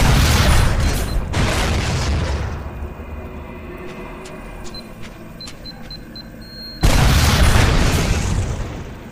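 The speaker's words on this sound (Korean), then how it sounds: "일단 로켓으로 쏘고 보자." In Duke Nukem Forever, rocket launcher blasts give two loud, booming explosions with rumbling tails, the first at the start and the second after a quieter stretch of game sounds and clicks.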